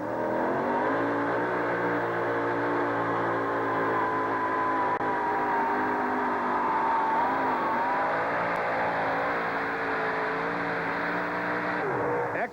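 A Toyota two-wheel drive truck makes a hot rod pull run at Anaheim, its engine holding a loud, sustained high roar with a strained, slightly wavering pitch for the whole stretch before cutting off near the end.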